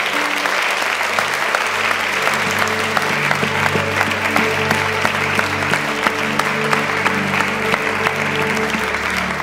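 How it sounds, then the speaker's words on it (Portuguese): A church congregation applauds in praise, dense sustained clapping from many hands throughout, loud and close, with a low instrumental drone beneath. "Aplauda Jesus. Fai un applauso a Gesù."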